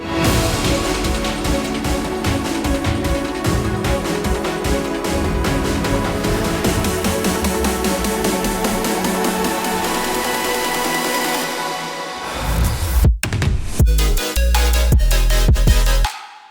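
An epic melodic dubstep build-up made in FL Studio runs dense and loud with a steady pulsing beat and layered synths for about twelve seconds, then drops out briefly into stuttering glitchy hits and heavy bass bursts before ending.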